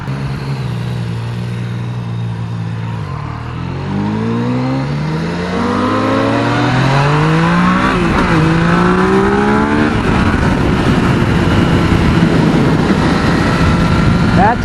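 A 2020 BMW S1000XR motorcycle engine under throttle, loud and close, its pitch sweeping upward through rising revs, easing briefly, then climbing again over steady wind rush.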